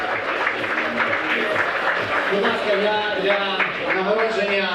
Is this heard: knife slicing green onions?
no